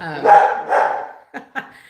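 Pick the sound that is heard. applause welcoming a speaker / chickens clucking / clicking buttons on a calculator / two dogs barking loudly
two dogs barking loudly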